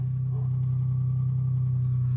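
A Geo Metro's small engine idles steadily and close by with a low, even hum and no revving, and nobody talks.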